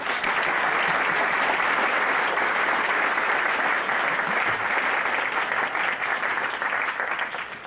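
Audience applause welcoming Dr. Adam Miller to the lecture podium at BYU, a dense, steady wash of clapping from a large hall that holds for the whole stretch before slowly tapering at the end.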